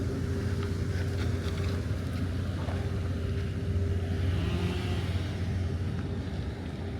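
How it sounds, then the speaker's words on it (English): A car passes on a street in Houston after Hurricane Beryl, heard as a steady low rumble with road noise over background wind. No one speaks. "Wait for this car."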